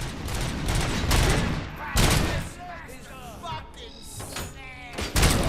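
Gunshots in the video game RoboCop: Rogue City: several heavy, booming shot bursts spaced a second or more apart, with quieter chirping game sounds and muffled voices between them.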